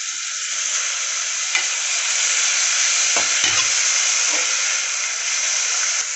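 Vegetables sauté in a pan for green veg biryani, with salt added, giving a steady close sizzle and hiss as a spoon scrapes and stirs them in short strokes.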